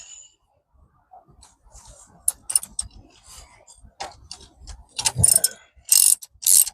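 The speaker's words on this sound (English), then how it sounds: "I'll screw it back on." A ratchet tightens the 12V battery fitting on a Kia e-Niro, producing sparse clicks that build into louder, rapid ratcheting bursts toward the end.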